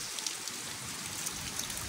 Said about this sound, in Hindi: बहुत अच्छी वाली बारिश हो रही है और बहुत तेज की